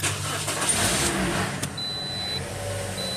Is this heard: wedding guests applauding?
no